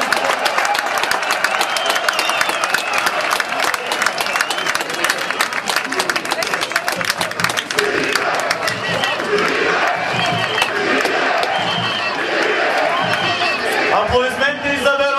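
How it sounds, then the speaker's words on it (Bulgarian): A stadium crowd applauds and cheers for the Veroe football team during Litex Lovech's title celebration in Lovech, a dense, loud, continuous roar with clapping and shouting voices throughout. "Аплодисменти за Верое, един симпатичен отбор, който уважава своя противник"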